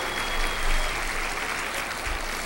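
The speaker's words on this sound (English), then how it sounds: "Let's give this guy another big round of applause." Audience at a country comedy barn show in Pigeon Forge, Tennessee claps in a sustained round of applause, fairly even with a couple of swells, crowd noise alone without a voice on top.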